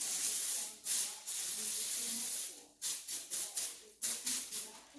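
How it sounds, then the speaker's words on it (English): Hissing bursts of an aerosol cooking spray: one long continuous spray, then a series of short, rhythmic puffs, close and clear. "I'm just going to spray it."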